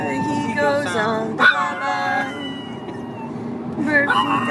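A Yorkie howls and yips along to a bye-bye song, its wavering high voice rising and falling over steady singing and music, loud and close throughout.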